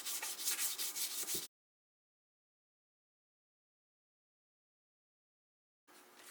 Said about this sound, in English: we'll take some 2000 grit and we'll just sand this around roughly